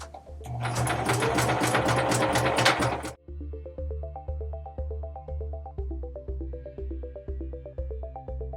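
A sewing machine stitches fabric for a dragon art doll, first in a fast, loud three-second run, then in a slower series of rhythmic mechanical stitch pulses nearby.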